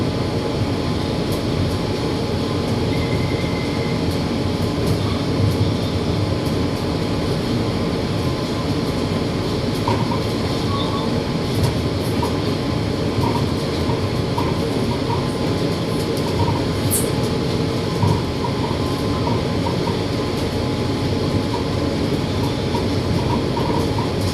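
Steady, continuous rumble and hum of a Bangkok Pink Line electric monorail train riding between stations, heard from inside at even loudness throughout with no talk.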